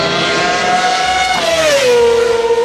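Toy F1 race car with a single continuous high whining engine tone that holds steady, then slides lower as if passing, loud and alone.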